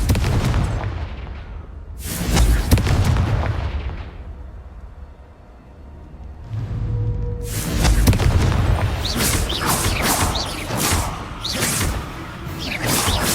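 Confringo fire spell blasts in the Hogwarts Legacy video game, a series of loud booming explosions with whooshing bursts, a few spaced early hits then a dense barrage of blasts.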